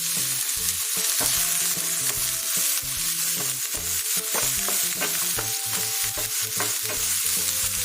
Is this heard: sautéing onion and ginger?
yes